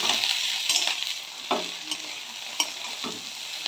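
Potatoes fry in a pan over a fairly high gas flame, a steady close sizzle with a few soft clinks and scrapes of stirring scattered through it.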